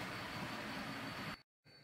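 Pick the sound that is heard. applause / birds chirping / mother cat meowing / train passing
train passing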